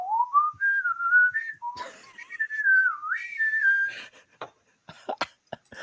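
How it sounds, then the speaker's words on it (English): Someone whistles the Newhart TV theme as a clear, bright solo melody with gliding notes, followed by a few sharp, scattered clicks and thumps near the end. "Another good whistling song, TV theme is Newhart."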